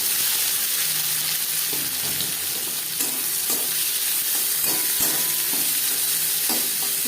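Chopped onion fries in oil in a wok already used to fry fish roe, giving a loud, steady sizzle with stirring scrapes and clinks throughout and no talking.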